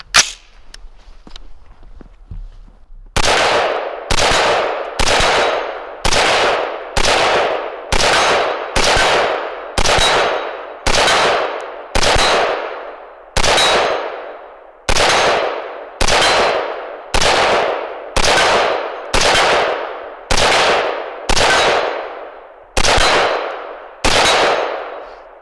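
A rifle fires .223 WPA full metal jacket rounds in a steady string of about seventeen loud, sharp shots, each with a quick decaying ring. Shots come at roughly one per second with a few longer pauses, after quiet handling noises at the start.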